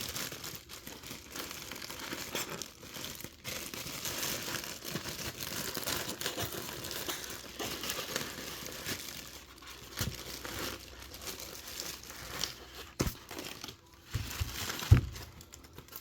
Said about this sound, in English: oh, we're also wrapped in plastic